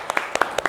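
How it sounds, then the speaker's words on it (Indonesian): A small group clapping briefly at a school anniversary event, a handful of sharp, close claps scattered over a fraction of a second against a steady room hum. "Tepuk tangan untuk mereka."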